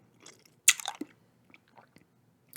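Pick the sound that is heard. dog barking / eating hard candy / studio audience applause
eating hard candy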